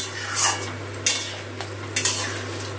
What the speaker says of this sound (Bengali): এই মশলাটার সাথে পটলটা একটু কষিয়ে নেবো